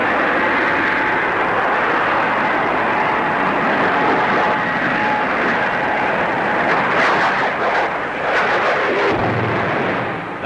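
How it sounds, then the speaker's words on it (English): A de Havilland DH-113 twin-seat night fighter jet roars past at the Farnborough air show, a loud, steady, broadband jet rumble filling the whole stretch with slight swells. "Venom's twin sister, the DH-113, intended for night fighting."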